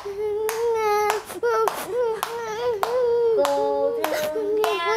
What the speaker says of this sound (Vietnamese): Con vừa vỗ tay vừa hát cho cô đi